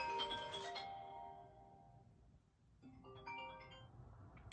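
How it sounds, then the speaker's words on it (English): A phone ringtone plays a short melodic chime phrase for an incoming call, pauses, then repeats more faintly, heard alone in a quiet room. "And somebody is calling me."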